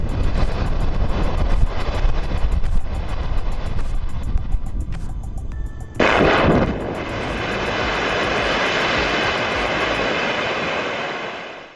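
A limestone quarry blast rumbles as a broad, loud roar, with a sharp burst of debris noise midway before a steady heavy rumble continues and fades out at the end; no voices.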